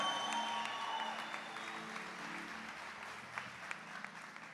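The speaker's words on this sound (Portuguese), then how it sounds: "Vamos aplaudir a misericórdia do Senhor." A Catholic church congregation claps during a Portuguese-language service, a fairly quiet, distant patter of many hands with a few sharper individual claps, fading slightly toward the end over faint sustained tones.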